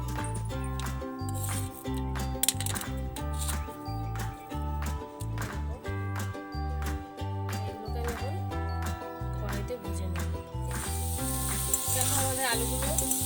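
Potato slices frying in oil in a pan for a Bengali dhokar dalna recipe, a steady close sizzle with stirring scrapes, running continuously and swelling louder toward the end.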